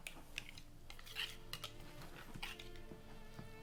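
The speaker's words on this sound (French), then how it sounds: "Vous voyez nos légumes? On les mélange à la préparation." Vegetables are stirred into okonomiyaki batter with a utensil scraping and clinking against a bowl, producing a soft, irregular series of quiet taps and scrapes.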